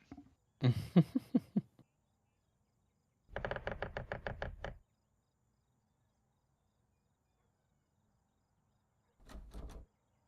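Rapid bursts of knocking on a door during a board game playtest come in three separate clusters of quick raps, each loud and close, with silence between them.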